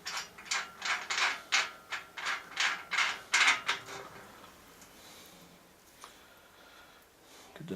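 A hand ratchet wrench clicks as it works a nut loose on the front hub motor of a 1000-watt electric bicycle, with several quick bursts of clicking close up followed by quiet handling.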